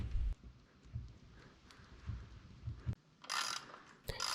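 A crank bolt on a Specialized Fuse bicycle, a Specialized Stout Pro crank, is tightened with a tool, giving soft ratcheting clicks in short bursts, quiet and close, followed by a brief rustle.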